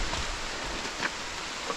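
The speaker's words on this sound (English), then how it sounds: "I think all the rain under the trees is heavier because it hits all the leaves" Rain falls on leaves beneath trees in a Shropshire country park during a gravel bike ride, a steady dense hiss with a few faint drips, no voices.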